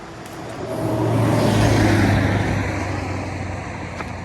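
A car sweeps past at a road crossing on a hiking trail, a broad low rumble with tyre hiss that rises from about one second, peaks near two, then fades as it moves away, with no talk over it.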